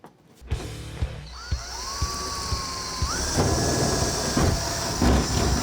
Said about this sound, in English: what I'm doing here is I'm drilling some holes because we're getting ready to use what are called Clecos